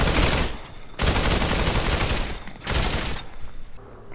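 Rapid bursts of automatic gunfire from the VR battle royale game Population One, loud and dense, come in two long volleys with a short gap between them and no talking over them.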